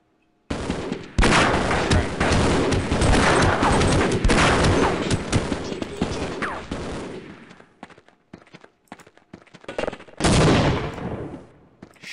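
Shotgun blasts in Half-Life fire in a loud, continuous barrage for several seconds, thin out into scattered shots, then return in a final heavy burst.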